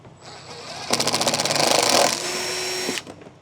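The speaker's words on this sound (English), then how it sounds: "So I kind of leave the bit running for a while to kind of burn out that seam sealer" A power drill spins a worn bit into a car body seam, burning through seam sealer during a body kit install on a BMW E46. The motor whines up sharply, holds a steady buzzing grind for about two seconds, then cuts off.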